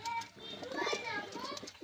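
Soft pigeon cooing close by, low rounded warbles mixed with a person talking over them throughout.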